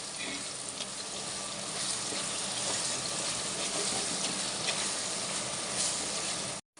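Mullet fish curry ingredients with green chillies frying in a clay pot, giving a steady, dense, close sizzle that holds evenly throughout before cutting off at the very end.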